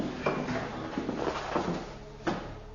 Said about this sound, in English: That sounded like a door closing or something.